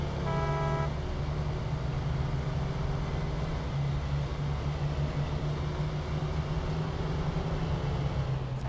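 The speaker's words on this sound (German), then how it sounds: "Ich hätte irgendwie gehofft, dass die Hupe irgendwie anders oder lauter klingt oder so mit diesen Zusatzhupen" A truck horn fitted with extra horns in the Snowrunner video game sounds a short harmonic toot at the start, then gives way to a steady droning engine rumble.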